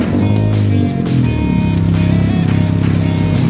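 A Toyota MR2 fitted with a spiral resonator exhaust rumbles close and loud, its deep, throaty engine note idling and rising with a rev before settling into a steady pulsing drone.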